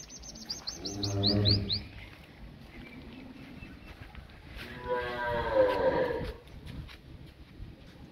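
Holstein Friesian dairy cows at a farm in Ganganagar, one giving a long, deep moo and another a second drawn-out call a few seconds later, with chirping birds and faint farm ambience around them.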